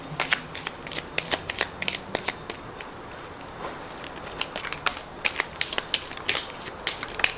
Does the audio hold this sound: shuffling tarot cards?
yes